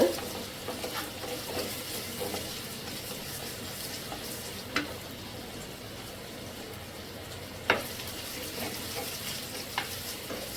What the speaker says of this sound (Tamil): நல்லா வாசனை வர வரைக்கும் நல்லா வறுத்துக்குங்க வதக்கிக்குங்க